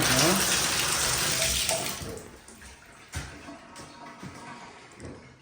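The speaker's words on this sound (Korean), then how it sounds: "자, 벌써 물이 나옵니다." Water runs from the head of a newly built tiled shower with 3x6 subway tile, first a loud steady spray that then drops to a softer, uneven trickle and splashing, with a voice speaking over it.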